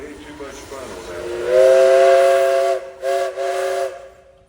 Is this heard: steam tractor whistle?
yes